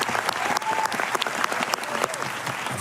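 An audience applauds steadily, dense overlapping claps filling the whole stretch at close, even loudness, with faint voices mixed underneath.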